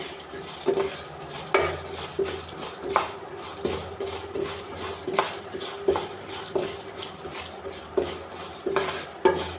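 Gram flour dry-roasts in a pan on a low flame while a metal spoon stirs and taps against the pan in an irregular rhythm; the scrapes and clinks are close and fairly quiet, with no talking.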